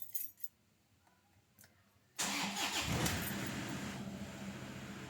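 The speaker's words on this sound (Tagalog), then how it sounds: "pwede ko nang i-start itong makina" A Toyota Hilux engine with 214k km, fresh from a timing belt and tensioner bearing replacement, cranks and fires up abruptly after a few quiet clicks, then settles into a loud, steady idle close by.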